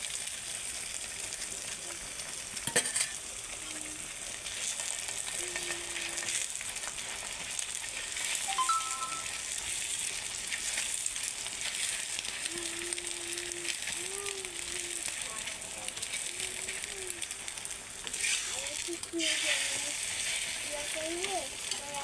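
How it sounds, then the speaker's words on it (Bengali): Beaten egg poured over a sweet egg-and-sugar paratha sizzles steadily in a pan, a soft continuous frying hiss with faint scrapes and stirring, while a voice talks now and then. "এবার ডিমটা পুরোটাই দিয়ে দিচ্ছি"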